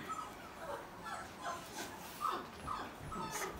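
A young red female puppy whimpers softly in a quiet setting, several thin, high whines rising and falling in a loose, uneven rhythm.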